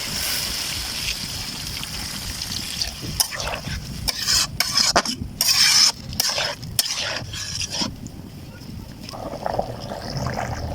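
Water goes into a pan of fish curry seasoned with salt, chili powder and a few beans, giving a steady broad sizzle that breaks into intermittent bursts of bubbling and stirring scrapes, close and moderately loud.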